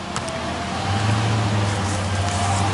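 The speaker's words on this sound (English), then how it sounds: "we got a noisy vehicle out there on the street, ice cream truck" Ice cream truck passing on a residential street beside a yard, a steady engine rumble with a low droning tone that swells midway and holds, close and fairly loud with no talk.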